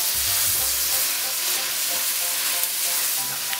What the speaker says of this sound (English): So in a heat pan, I've got some butter. And I'm going to add my loin in here.